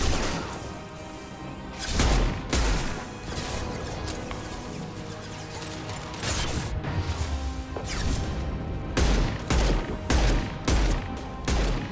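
Rapid bursts of gunfire in the video game Mass Effect 2, loud repeated volleys and heavy impacts crashing in clusters over a continuous battle din.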